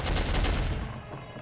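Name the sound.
turret gunfire in video game Soldier of Fortune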